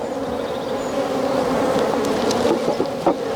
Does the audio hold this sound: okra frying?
no